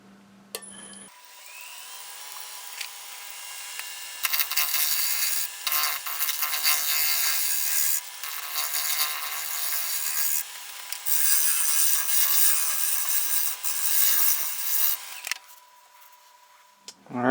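Wood lathe turning a natural-edge English walnut bowl, a gouge scraping the spinning outside surface in long hissing passes with brief pauses, over a steady motor hum that ends abruptly.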